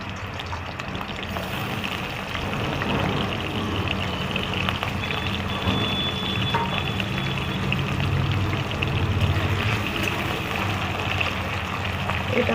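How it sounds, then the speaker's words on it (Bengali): Potato pieces fry in oil with a constant, dense sizzling hiss that holds steady and fairly loud for the whole stretch, with no voices. "ওই আলুটাকে তেলেতে একটু ভেজে লাল করে তুলে রেখে দিই"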